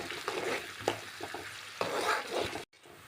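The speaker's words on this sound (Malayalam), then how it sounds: "വെളുത്തുള്ളി, പച്ചമുളക്, കറിവേപ്പില നല്ലോണം നമുക്കൊന്ന് മൂപ്പിച്ചെടുക്കാം." Garlic, green chillies and curry leaves frying in hot oil in a pan, crackling and sizzling close up, with several sharp stirring scrapes. The sound cuts out briefly near the end. No one talks.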